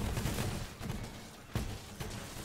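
Pyroburst grenades go off in Borderlands 3 as a dense, continuous roar of overlapping blasts and crackling bursts, loud throughout with a few sharper hits standing out.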